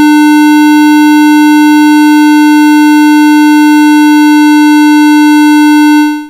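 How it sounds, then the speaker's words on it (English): A steady, loud square wave tone with a buzzy, harsh edge, held unchanged for about six seconds before cutting off abruptly. "The square wave sounds much sharper"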